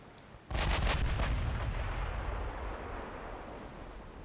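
Naval gunfire in a strategy video game set in a Byzantine Empire campaign, with shell hits on an armoured ship: one loud booming salvo of several shots, then a long rumbling decay.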